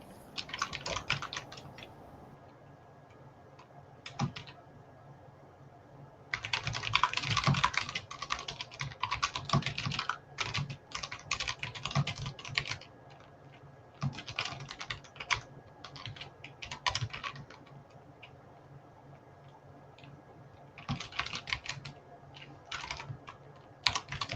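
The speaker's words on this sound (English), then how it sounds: "Some great typing sounds happening." Several people type on computer keyboards, bursts of quick clicking keystrokes starting and stopping across the stretch, fairly quiet and close, with no talking.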